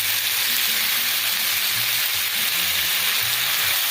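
Chicken tenders fry in a pan with onions and garlic, a steady, close hiss of sizzling fat running without pause from start to finish, with low rumbling underneath and no voices.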